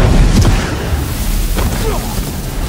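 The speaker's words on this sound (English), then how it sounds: "nobody else heard or saw that giant explosion" A giant explosion in the Zorro film rumbles as a loud, deep boom with a heavy low-end roar that fades slowly across a few seconds, with faint crackling debris on top.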